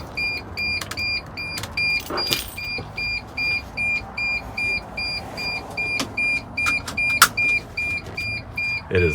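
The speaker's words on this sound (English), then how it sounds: "That beep doesn't shut off till you shut the door." A 2002 T1N Sprinter van's door-open warning chime repeats steadily in evenly spaced beeps, with occasional clicks and a faint mechanical hum underneath; no one speaks.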